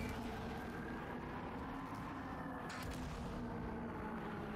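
Gunfire in the video game Halo 4 on the Shutdown level: a dense, steady roar of weapon fire and blasts that blurs into continuous rumble with no clearly separate shots, loud and unbroken.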